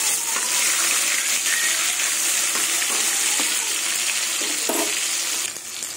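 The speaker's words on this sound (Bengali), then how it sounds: "মাছ ভাজা হয়ে গেছে, মাছ ভাজাগুলো তুলে নেব" Rui fish frying in a pan of oil, a steady dense sizzle running loud and continuous throughout, with faint clinks of stirring and no voices.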